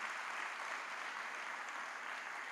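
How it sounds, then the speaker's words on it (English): Audience at a Lagos real estate town hall gives a round of applause, a soft, continuous wash of clapping heard at a distance, steady and unbroken. "Please, let's give them a big round of applause again."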